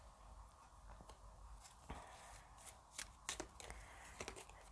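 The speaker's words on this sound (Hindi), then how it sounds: "Let me shuffle." Tarot cards are shuffled in a quiet room, producing faint irregular riffles, taps and snaps of card stock close by, with no talking.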